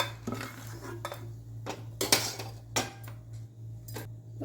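Fried dried chillies shifted from a pan to a plate, a series of close metallic clinks, scrapes and knocks of a spoon against pan and plate over a low steady hum.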